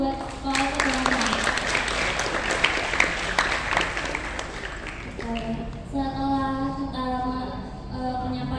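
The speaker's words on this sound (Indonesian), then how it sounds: "Tepuk tangan dulu dong buat Pak Ocha teman-teman" Seminar audience clapping for a speaker at a national seminar, dense steady applause for about five seconds that fades as a harmonic sustained tone, likely music, rises underneath.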